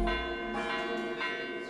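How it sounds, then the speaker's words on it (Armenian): Bells of an Armenian Catholic church in the Caucasus ring out, a sustained metallic peal with rich overlapping tones, struck again mid-way, clear and resonant. "Կրկին ղողանջում են հայ կաթողիկե եկեղեցիների զանգերը։"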